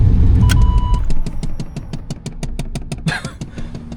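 Chevy truck engine idling with a lumpy, cam-like lope, rapid regular pulses after a loud start, heard close with some rumble.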